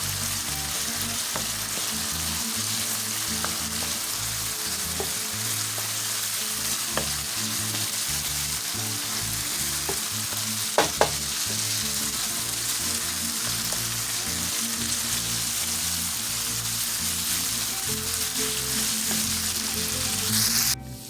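Ground beef with tomato paste sizzles and fries steadily in a pan for cheesy beef quesadillas, a continuous close hiss with faint scraping stirs throughout and no talking.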